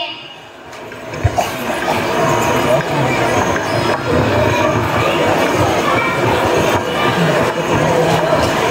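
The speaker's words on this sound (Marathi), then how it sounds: "अरे रेल्वे थांबल्या स्टेशन आलंय" A train rumbles and clatters steadily on rails, with a busy crowd murmuring and voices talking throughout, like a platform as a train pulls in.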